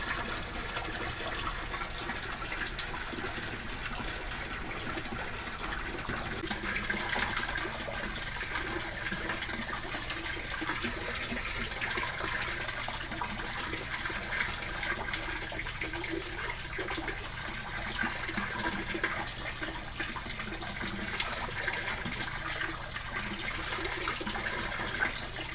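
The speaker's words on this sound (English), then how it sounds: "the water coming down from the siphons increasing" Water gushes steadily through an indoor aquaponics siphon as a grow bed drains, a continuous rushing, gurgling flow close by that swells and thickens partway through.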